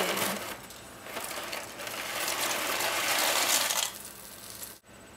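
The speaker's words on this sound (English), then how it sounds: "Okay, the water in the back is boiling now. So I'm going to add the pasta." Dry pasta pours into a pot of boiling water, a faint continuous rattling, clattering cascade that swells and eases over a few seconds before stopping abruptly.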